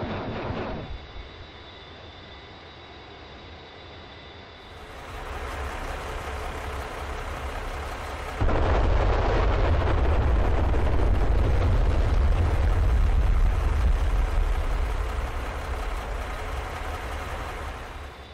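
A-10C firing Hydra 70 rockets in the DCS flight simulator, steady jet engine drone followed by a sudden loud sustained roar of rocket launches that slowly fades.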